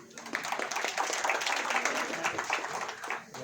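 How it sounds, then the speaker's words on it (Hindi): An indoor audience claps to welcome a speaker at a public meeting, a dense patter of many hands that stays fairly even and continues for a few seconds. "जोरदार तालियों से स्वागत करेंगे"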